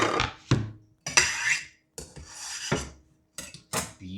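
Chicken skins and pieces dropped into a marinade bowl make several separate wet clatters and scrapes against the bowl, with short silent gaps between them.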